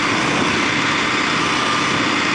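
A 2009 Kawasaki KLX250SF supermoto motorcycle's engine runs at a steady, buzzy idle, close and constant for a couple of seconds.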